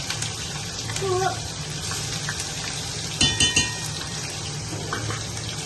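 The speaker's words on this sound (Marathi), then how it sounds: "चांगलं फ्राय होऊन द्यायचं" Ground chili and garlic paste with curry leaves frying in a pan for dahi kadhi, a steady close sizzle broken by a few clinks of stirring.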